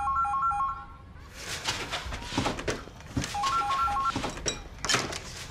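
Telephone keypad tones beep in two short bursts of dialing, then ringing tones follow amid louder broadband noise from a TV drama scene.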